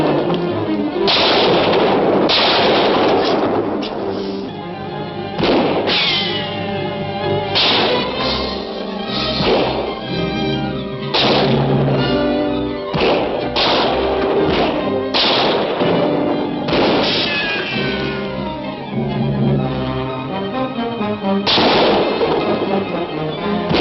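Shootout gunfire from a 1943 adventure serial film: repeated sharp cracking shots at irregular intervals, loud and close, over a dense continuous backdrop of action noise and music.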